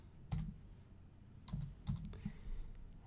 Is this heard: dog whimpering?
no